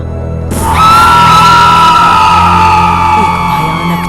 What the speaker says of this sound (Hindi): एक भयानक चीख सुनाई दी